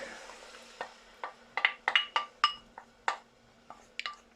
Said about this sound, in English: So, onions in there. We mix that a little bit.